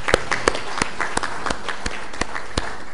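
A church congregation applauds during a service, scattered hand claps spread across the room at a moderate level, continuing steadily throughout.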